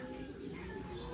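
Pigeons cooing close by with a low, steady murmur, a continuous soft burble lasting about a second with no other sounds over it.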